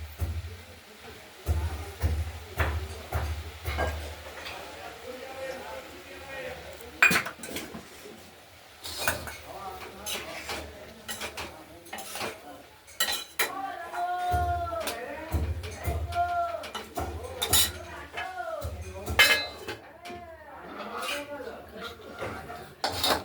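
A lid comes off a pot of mixed vegetable curry made with fish oil, beet, carrot, beans, potato and onion, and it is stirred, giving repeated clinks and scrapes of metal on metal with occasional knocks, all at close range.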